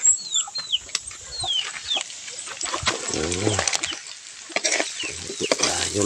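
Chickens cluck while being fed: soft, scattered clucks and rooster-like calls come in short bursts, mixed with light shuffling and stirring noises in a quiet yard.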